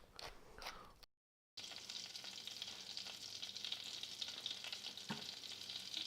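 A steak sears in a very hot butter bath, giving a steady, loud, close sizzle that runs continuously after a brief silent gap, with faint occasional crackles and no talking.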